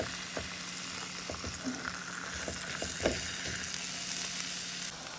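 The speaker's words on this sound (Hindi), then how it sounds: "अब डाल दूंगी इस पे मकई की रोटी।" Makki ki roti frying in butter on a hot tawa gives a steady close sizzle, with scattered crackles and a few soft scraping touches as it cooks, and no voices over it.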